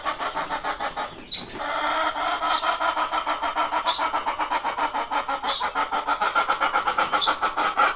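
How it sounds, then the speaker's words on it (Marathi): A hen with no rooster around calls before laying an egg, giving a short series of repeated, evenly spaced high squawks over a steady low rumbling background hum. "ते अंडं घालण्या पहिले जशी कोंबडी आवाज करते त्या टाईपचं जे आहे कोंबडी आवाज करत आहे"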